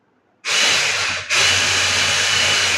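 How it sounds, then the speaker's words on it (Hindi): An electric kitchen grinder starts abruptly after a short silence and whirs loudly as it grinds sugar for a chocolate cake. It dips briefly once, then resumes at full pitch and keeps running close by, with no talk. "लेकिन मैं इसे पहले ग्राइंड करके देख लूँ।"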